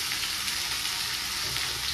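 Vegetable bhaji sizzling and frying in a pan, a close, steady crackling hiss with small pops throughout and no talking.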